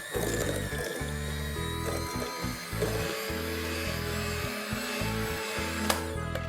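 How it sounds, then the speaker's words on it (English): An electric hand mixer beats brown sugar and butter for eggless peanut butter cookies, a steady motor whine with choppy, stuttering changes as the beaters move through the bowl, close and loud with no talk. "We are going to beat all of this together."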